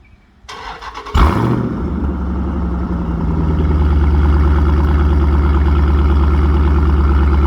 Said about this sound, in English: I don't know if this thing has to be locked for the remote start to work.